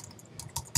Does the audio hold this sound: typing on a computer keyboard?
yes